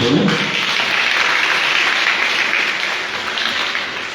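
A crowd in a neighborhood gathering led by a priest claps loudly and steadily, a thick sustained wash of hands that fades slightly toward the end, with no talking over it.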